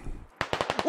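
Rapid gunfire in the SquadOps military shooter game: after a brief quiet, a fast burst of about six sharp automatic shots rings out in quick rhythm, loud and close.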